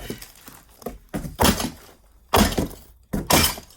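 An object is bashed against glass in repeated hard blows, each a loud thunk with a crunchy, breaking crackle. The impacts come in irregular bursts with short quiet gaps between them.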